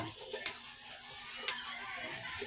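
Rice fries for sinangag, Filipino garlic fried rice, with a steady sizzle and a couple of sharp spatula scrapes and taps against the pan, close and moderately loud.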